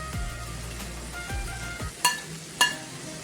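Green chillies tossed into iftar chaat in a pan, a soft continuous sizzle with low thumps early on, then two sharp spoon-on-pan clacks, close and without voices.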